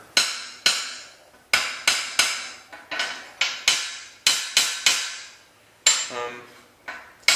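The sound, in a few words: hammer tapping lead wheel weights, sharp pinging ring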